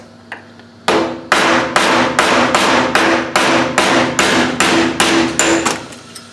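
Close, loud hammer blows drive a pin out of a TH400 Turbo 400 automatic transmission valve body on a workbench: one early tap, then about ten evenly spaced heavy metallic strikes with no talking.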